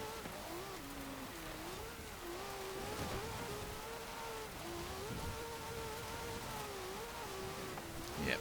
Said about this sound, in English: And it's bouncing off the rev limiter as well.